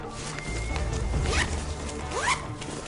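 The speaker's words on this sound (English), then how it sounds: "I also have zipper pockets that I could get into from here, or from here." On a tactical bag, a pocket zipper is drawn open in two quick, close rasping pulls over faint background rustle.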